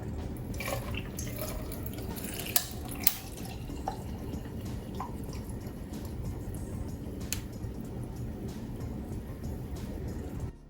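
Homemade organic strawberry lemonade poured into a cup over a lemon slice, a steady close liquid splash with dripping and a couple of sharp clinks.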